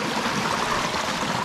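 A river flows steadily along a mountain trail at dusk, a close, even wash of rushing water with no voices over it.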